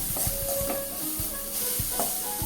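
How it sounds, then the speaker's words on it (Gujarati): Masala green chillies fry softly in a pan on low heat as lemon juice is stirred in, a faint hiss broken by several light scraping strokes of the spoon, with no voices. "હવે ઉમેરીએ લીંબુનો રસ અને ચલાવી લઈએ"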